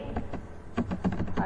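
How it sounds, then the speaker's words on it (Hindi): A computer keyboard is typed on in short, irregular bursts of clicks while a mobile number is entered into MS Word, the taps close and fairly clear against a quiet background. "तो यहाँ पे मैंने मोबाइल नंबर टाइप कर दिया"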